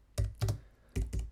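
Someone types a git command on a computer keyboard: four crisp, close keystrokes in two quick pairs, with short pauses between, in a quiet room.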